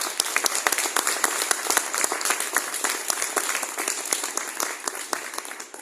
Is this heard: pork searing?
no